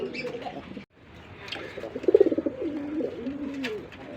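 Native Bangladeshi Golla pigeons, bright red birds kept on a pigeon farm, coo close by in short warbling bursts after a brief pause, with no talking.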